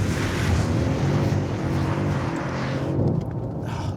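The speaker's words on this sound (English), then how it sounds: "when those turbos spool up, then it lets go" A Mercedes S-Class-based turbocharged car accelerating hard, a loud, dense engine roar with wind and road noise holding steady throughout before easing slightly near the end.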